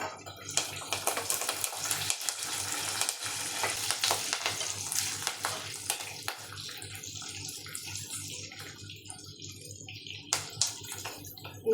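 Quiet, steady sizzling and crackling of onions, green chillies and curry leaves frying in a pan, with occasional scraping and stirring sounds.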